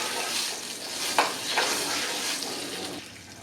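Urad dal and chana dal hitting hot oil in a pan, a steady close hiss and crackle of frying with a few brief stirring scrapes, the sizzle easing slightly near the end.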